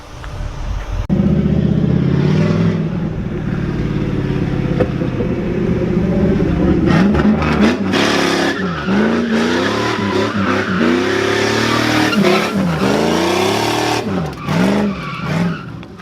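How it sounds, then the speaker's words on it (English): A car nicknamed Nessie drifts around cones, its engine revving hard over a steady roar with repeated rising and falling surges and tire squeal, loud and close throughout, with no talking. "drift between those cones, come back around to finally go around the pull one more time and end it all"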